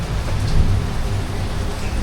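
Steady monsoon rain pours down over a village in the Konkan countryside, a dense continuous hiss with a low rumble beneath, loud and close throughout with no voices.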